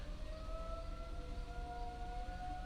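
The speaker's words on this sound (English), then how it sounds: "Here we have tornado sirens that go off at 10 a.m." Tornado warning sirens sound at 10 a.m. on the first Tuesday of the month, a sustained wailing tone from a distance, held steady over low rumbling background noise with no voices.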